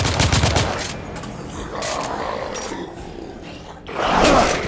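Gunfire erupts in the Victorian-era shooter The Order: 1886, loud bursts at the start and again near the end with a roaring, rumbling battle din between them and no talking.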